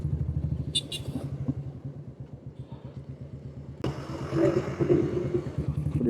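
Motor vehicle, most likely a motorbike or car, rumbling steadily on the road leading to the Vennangodi Muniyappan temple, its engine close and continuous with a louder surge of road noise partway through.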